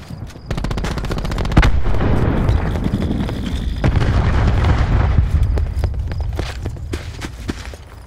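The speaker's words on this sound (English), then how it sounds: "Cluster grenade. Enjoy." Video game firefight with a cluster grenade: a rapid string of explosions and booms mixed with gunfire, loud and dense throughout, thinning out toward the end.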